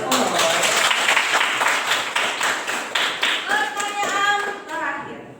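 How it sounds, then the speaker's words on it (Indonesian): A classroom of children claps together in quick, uneven bursts that fade toward the end, with children's voices calling out over the applause. "Oke, tepuk tangan dulu."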